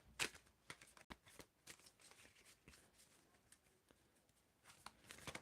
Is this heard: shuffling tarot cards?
yes